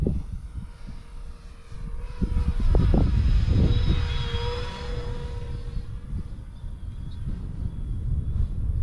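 An E-Flite P-51 radio-controlled model plane, a 1.5 m warbird, flies at half throttle with a steady droning motor whine that rises and shifts in pitch as it passes nearby, amid outdoor wind noise.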